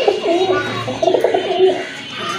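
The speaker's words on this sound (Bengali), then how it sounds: "আরেক জোড়া কবুতর, এটা হচ্ছে পুতুল গড়া কবুতর" A pair of Putul Gora pigeons coos in quick, throaty rolling phrases, close and fairly loud, with calls overlapping over a couple of seconds.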